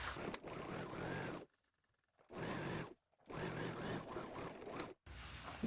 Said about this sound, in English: We're going to stitch right here from there straight to the other side of our pocket.